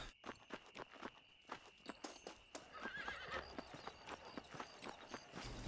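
A horse in Red Dead Redemption trots with quick, evenly spaced hoofbeats and gives a short whinny partway through, close and clear with faint background ambience.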